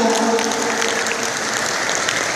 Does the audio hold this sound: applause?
yes